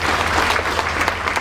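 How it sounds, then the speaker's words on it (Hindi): Loud, dense applause from an audience honouring a young woman achiever at a public welfare programme, sustained and steady throughout with a faint crowd murmur beneath. "जोरदार तालियां मिलेगी"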